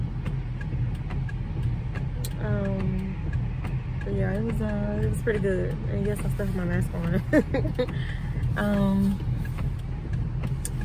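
Car moving through thick traffic on a rainy day, a steady low engine and road rumble running throughout beneath a person talking close by.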